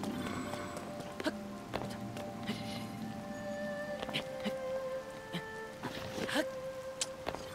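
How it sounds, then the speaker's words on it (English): Rain falling in the video game Zelda: Tears of the Kingdom, a soft steady patter under scattered game effects and clicks, fairly quiet throughout. "Why is it anytime I'm doing something important it has to do this? It has to rain."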